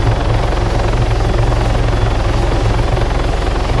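A helicopter in the military game Arma 3 gives a loud, steady rotor thump and turbine roar throughout, close and unbroken, with no voices.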